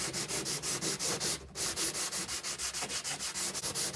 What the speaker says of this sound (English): So I'll start off with some sanding.